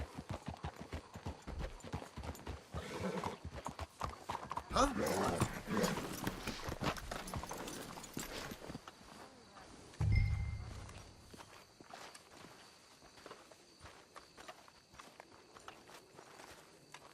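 Hooves clip-clopping steadily as horses walk along in Red Dead Redemption 2, with a brief muffled thump partway through and a single short spoken word.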